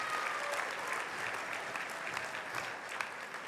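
Steady applause from a convocation audience honoring Bachelor of Commerce International Business graduates at a spring business school ceremony, dense and even throughout, moderately distant.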